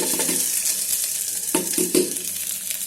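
Sliced onion and capsicum with green chilies fry in an electric kettle, a loud steady sizzle with a few scraping stirs and light clinks of the pot, no talking.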